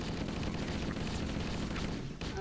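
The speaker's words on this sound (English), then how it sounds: "there's something shooting me" Gunfire in a Halo game, a dense, continuous rattle of shots blended into a steady wash of noise at moderate volume, with a brief dip near the end.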